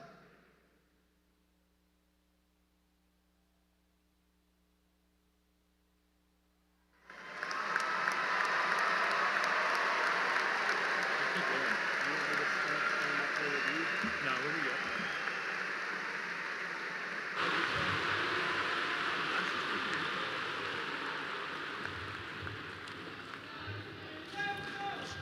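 Silence gives way to a large audience at a Clemson University graduation applauding new bachelor's degree recipients, a loud, sustained wash of clapping lasting nearly twenty seconds, with cheering voices inside it.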